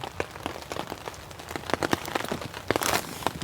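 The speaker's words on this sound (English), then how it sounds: "it's eased up maybe a little bit now, but still pretty persistent rain" Persistent rain patters steadily on a camping site, a dense spread of close drops tapping over the ground and shelter, with a brief heavier burst near the end and no voices.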